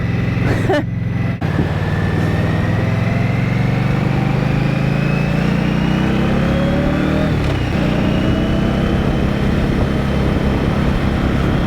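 A 2023 Indian Scout Rogue motorcycle engine pulls hard through rising revs, its loud, close drone climbing steadily in pitch for nearly twelve seconds with no talk over it.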